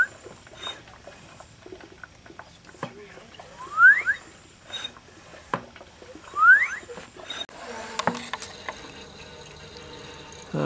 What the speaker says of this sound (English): You can hear it sucking air in there